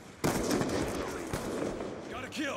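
Gunfire in the video game Black Ops 2 on the Nuketown map: a sudden burst of rapid shots breaks in and rattles on, close and loud, with scattered further reports and game effects over a noisy mix.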